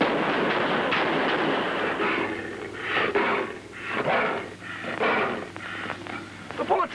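Gunfire in a 1956 sci-fi film, a rapid burst of several gunshots with a hissing, noisy tail, heard through old film sound with a voice talking over it.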